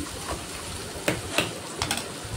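Spinach sizzles softly in a pan while it is stirred, with a steady low hiss of frying broken by several sharp scraping clatters from the stirring.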